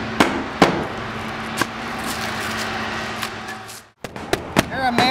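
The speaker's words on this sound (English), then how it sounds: "Here I'm nailing on the ridge cap, placing it evenly and bending it over the top of the roof peak" Nails hammered into a metal ridge cap on a shed roof peak: several sharp, separated metallic knocks over a steady background hum, with a brief drop to near silence before a few more hits.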